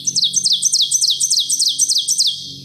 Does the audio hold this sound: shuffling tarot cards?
no